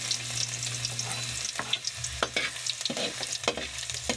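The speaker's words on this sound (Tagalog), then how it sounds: "Guys, mainit na ang mantika sa kawali. Ilagay natin ang bawang." Garlic sizzles and spits in hot oil in a pan, a steady frying hiss broken by sharp crackles and a few louder pops and scrapes of stirring, with no one talking.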